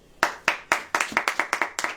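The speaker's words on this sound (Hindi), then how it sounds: "ताली हो जाएगी।" Hands clap in an audience at a church sermon in a run of sharp, distinct claps, spaced at first and then quickening into a fairly regular rhythm, close and fairly loud with no talking.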